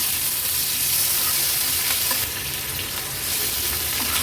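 Thin potato slices stir-fry in a pan over a high gas flame, producing a loud, dense, unbroken hiss and crackle up close, with soft stirring movement beneath.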